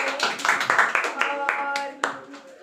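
A class of students claps hands during a Hindi lesson, a short burst of quick, uneven claps close by, with speech around it.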